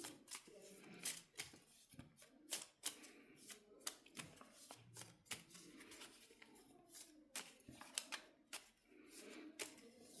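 Cards from a Lord of the Rings Fellowship of the Ring deck-building game are shuffled by hand, giving a run of quick, crisp riffling bursts and soft slaps that repeat unevenly and close to the mic.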